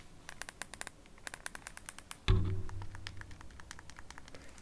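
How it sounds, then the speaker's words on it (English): Game Boy Pocket buttons are pressed in quick runs of small, crisp clicks, held close to the mic, followed by a louder thump and a brief rustle. "So you can tell that the buttons are a lot clickier on here."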